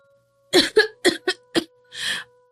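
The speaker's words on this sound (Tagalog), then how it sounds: "Umuubo ka na nga na may kasamang dugo tapos ayos lang?" A person with a sickness that brings up blood coughs in five close, harsh bursts, then gives a longer raspy exhale, loud and near, with no talk.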